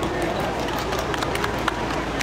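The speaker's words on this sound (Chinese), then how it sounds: "掌声。" Audience applause at an ethnic guozhuang dance competition in Maerkang, a dense continuous clatter of many hands clapping with crowd noise, filling the whole short stretch.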